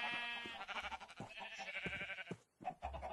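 Sheep bleating in the Minecraft video game, a few wavering harmonic bleats close by over a busy layered game backdrop, with a brief gap of near silence toward the end.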